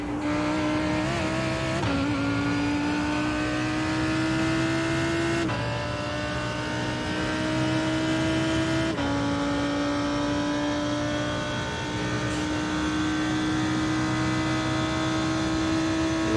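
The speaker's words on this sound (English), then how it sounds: "Oliver, there's a faster class car approaching." A race car in an IMSA sim racing game at Daytona International Speedway screams along at high revs, with repeated upshifts and steady engine drone. A faster class car closes in and passes close by, with no voices.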